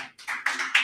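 A weak cheer and a thin scattering of applause from a small audience, with a few uneven claps spread over under a second.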